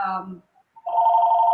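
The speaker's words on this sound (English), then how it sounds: "So I apologize for that phone." A phone rings in a room during a talk at a morning community event, a steady electronic trill loud and close, following a short stretch of speech.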